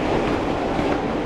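A New York subway E train at a station on the Queens Boulevard line gives a loud, steady rumbling roar of wheels and rails, close by and with no talk.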